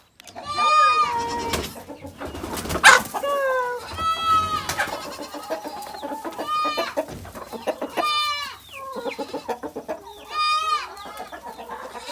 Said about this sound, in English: we have now put out a chicken run for the winter coop chickens